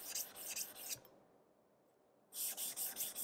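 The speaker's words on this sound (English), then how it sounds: "You can tell the sound is starting to get softer, quieter. That's because we're moving into the finer grit stones." Santoku knife, a Fujiwara Maboroshi 165mm, drawn across a fine grit whetstone with liquid slurry: close, soft rasping strokes in a steady rhythm, a pause of over a second, then the strokes resume.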